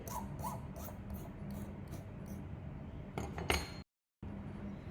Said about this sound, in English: now I'm going to keep filing and filing and filing until it's the height that I need it to be